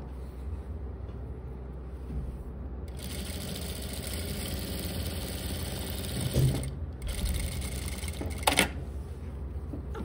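A sewing machine runs steadily while stitching along the very edge of a folded pocket for formal trousers, a continuous close mechanical whir that pauses briefly twice before resuming.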